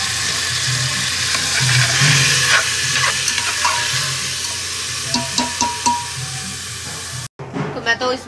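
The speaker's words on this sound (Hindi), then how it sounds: "मैंने देसी घी में थोड़ा सा ना जीरा डाला है, और इसमें 3-4 लहसुन की कलियां भी डाली है" Cumin seeds and garlic cloves sizzle steadily in hot ghee, with a series of stirring clinks and scrapes, then a brief cut to a voice speaking.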